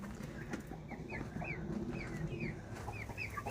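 Hens clucking and chirping softly inside a backyard chicken coop with baby chicks, several short rising calls scattered over a low ambient hum, moderately distant and quiet.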